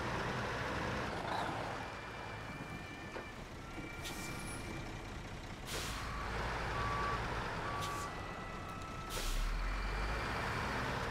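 Truck reversing a trailer in the video game SnowRunner, with repeated reversing beeps over a steady engine rumble and sharp air brake hisses, all continuous and fairly close.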